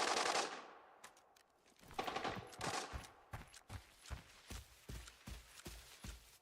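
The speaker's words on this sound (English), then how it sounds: "Now those gunshots are an indicator that there's another TAC Ops player or team over there" Rapid bursts of gunfire from another team in the video game Arena Breakout, a loud initial blast followed by a steady run of sharp, evenly spaced shots, fairly close with no talk over them.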